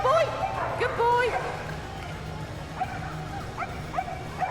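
Several dogs yip and bark in short bursts during a canine cross country display at Crufts 2013, moderately close, with an excited whimpering edge over a steady murmur of arena noise and voices.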